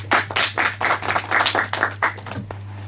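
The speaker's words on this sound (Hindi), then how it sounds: "जोरदार ताली हो जाए इनके लिए।" An audience at a televised quiz show stage event claps in a quick burst of about ten sharp, evenly spaced claps, fading out by the end over a steady low hum.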